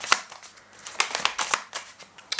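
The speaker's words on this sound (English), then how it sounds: "I'm gonna shuffle the oracle cards" Oracle cards being shuffled by hand, a run of close, crisp papery riffles and slaps in an irregular rhythm, with no one talking.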